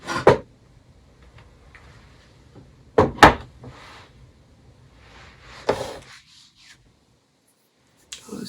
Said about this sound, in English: someone knocking the door